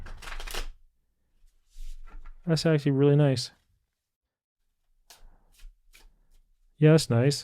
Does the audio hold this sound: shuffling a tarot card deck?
yes